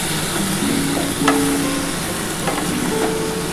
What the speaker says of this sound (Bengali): যে মশলাটা দিয়েছি মশলাটার সাথে একটুখানি কষিয়ে নেব